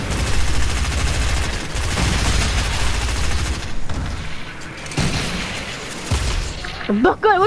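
Video game gunfire against zombies near a boat, rapid bursts of shots and booming impacts layered over a busy combat soundscape, loud and continuous, ending with a short warbling tone.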